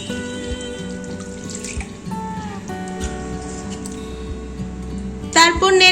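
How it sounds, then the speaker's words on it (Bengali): Water runs steadily from a tap or jug into a pan of katla fish curry in a home kitchen, a continuous close splashing stream that ends in a brighter gush. "এবার দিয়ে দিচ্ছি তরকারির জন্য পরিমাণ মতন জল"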